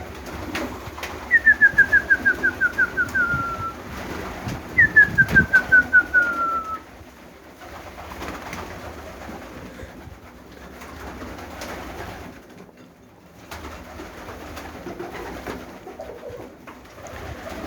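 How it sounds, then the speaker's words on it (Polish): Budapest pigeons coo in two rolling, pulsing bursts close by, followed by a long quiet stretch of faint background shuffling and soft noise. "Jest dużo gołębi"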